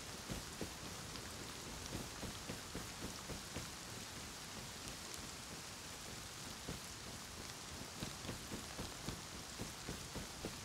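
Rain falls in the survival video game Rust: a quiet, steady patter of drops hitting surfaces, with soft scattered taps over a constant hiss and no voices.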